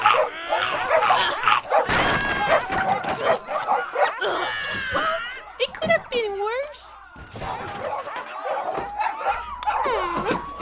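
Cartoon dogs bark, yip and whimper in a chaotic dog pile, overlapping animated character voices and sound effects in a student 2D animation, loud and busy throughout with a crash mixed in.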